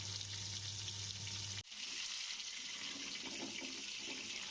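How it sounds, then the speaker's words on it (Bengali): A piece of catla fish fries in hot oil in a wok, giving a steady, close hissing sizzle that continues after a low hum cuts off abruptly near the start. "তো তেল গরম হয়ে গেছে, আমি কড়াইতে মাছটা দিয়ে দিচ্ছি"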